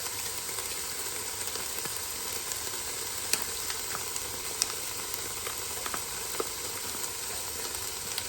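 Ground beef sizzles and fries in a pan for a sauce with Italian sausage, a steady close crackling hiss with scattered sharp pops throughout and no talking.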